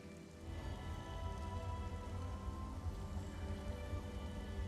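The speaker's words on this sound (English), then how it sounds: "There is a perpetual rain cloud in the center of this tower on its first floor" Steady rain pours from a perpetual rain cloud inside a tower's first floor in the Elder Scrolls Online game, a continuous broadband hiss with low rumble that holds constant throughout, with no talk over it.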